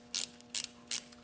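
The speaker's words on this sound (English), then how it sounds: "We'll just put the bolt in and tighten it up." Three short, evenly spaced ratchet bursts tightening a bolt into the locker actuator plug on a Dana 44 front axle, each a quick metallic clicking pass, close and fairly quiet with no talking.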